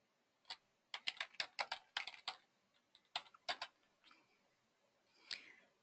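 Soft, close keystrokes on a computer keyboard, a quick irregular run of clicks with short pauses, fairly quiet with no talking.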